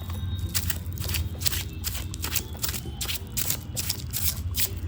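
Tarot cards shuffled by hand in steady, crisp riffling bursts, close and fairly quiet, continuing without a break and with no talking.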